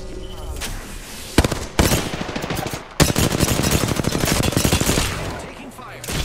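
Automatic weapon fire in Apex Legends, rapid sustained bursts with sharp onsets near 1.4, 1.8 and 3 seconds, loud and dense through most of the clip.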